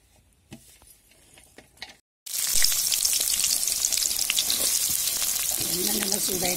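Spices for a Chettinad chicken curry hit a hot pan after a quiet stretch of faint clicks, bursting into a loud, continuous frying sizzle with occasional stirring taps, no talk.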